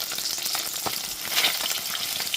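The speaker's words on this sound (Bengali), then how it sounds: "মাছের এক দিকটা হয়ে গেলে পরে অপর দিকটা উল্টে দিচ্ছি" Freshly flipped pabda fish fry in a small amount of oil, giving a close, continuous sizzle with sharp pops and crackles scattered across it and no one speaking.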